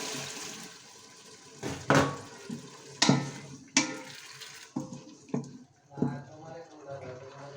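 Water is poured into a cooking pan holding green chilies and tomatoes, with a few splashy bursts and clanks close by over a low, steady background.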